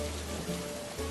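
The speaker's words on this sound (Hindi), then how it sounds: "बाहर बारिश की छम छम आवाज आ रही है" Steady rain patters outside during a monsoon street-side dosa cooking scene, a soft continuous hiss at low level throughout with no clear voices.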